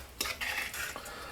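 A spoon stirs and scrapes a homemade meatball and rice mixture in a bowl, a few short close clinks and wet scraping strokes over quiet background.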